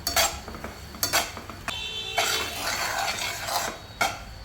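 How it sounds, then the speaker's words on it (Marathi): A spoon scrapes and clinks against a pan as melting jaggery is stirred, with sharp metallic taps recurring every second or so between stretches of softer scraping, close and alone. "एकसारखं गूळ हलवत राहायचं."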